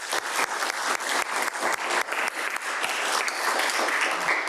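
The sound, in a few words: applause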